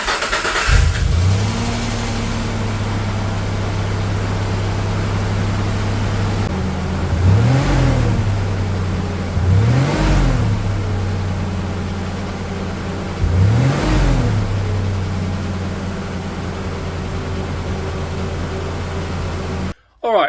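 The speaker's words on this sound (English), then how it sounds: "let's start it up, see what it sounds like." A Nissan Navara's VG30 engine cranks, starts and runs after a lifter replacement, settling into a steady idle that rises in several short revs, recorded up close.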